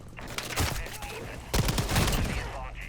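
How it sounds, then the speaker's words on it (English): Gunfire in the video game Modern Warfare 4: two loud, close bursts of rapid shots, the second heavier, over steady game background noise. "Enemy shots fired."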